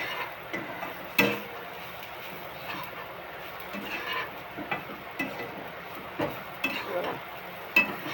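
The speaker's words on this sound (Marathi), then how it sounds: "बघा, वाटण टाकलं. आता चांगलं त्याला परतून घेऊया." Ground masala paste for a brinjal curry is stir-fried in a pan, giving a steady low sizzle with scattered scraping clicks from the spatula over about eight seconds.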